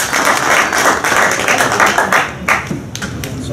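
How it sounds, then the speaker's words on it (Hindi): Dense applause from an audience at an outdoor political rally, steady crowd clapping throughout with no voices over it. "तालियां स्वागत"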